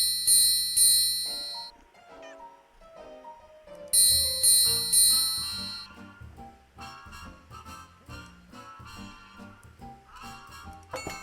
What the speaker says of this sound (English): Triangle gong,